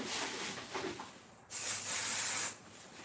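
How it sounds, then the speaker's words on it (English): Hissing aerosol basting adhesive spray: a softer spray first, a brief pause, then one strong, bright one-second burst close by, sprayed over a trash can. "put some basting spray on the back so that I can hold these in place"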